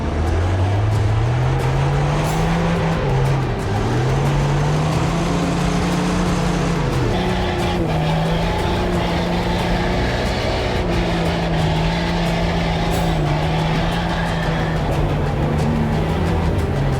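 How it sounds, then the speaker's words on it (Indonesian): An off-road car labours along a slippery dirt road turned to mud by rain, its engine droning loudly and continuously, the pitch rising and dipping as the tires slip, with no voices. "Melalui jalan tanah yang licin dan lembek bekas guyuran air hujan, membuat ban mobil off-road sering slip dan terpleset di antara lumpur"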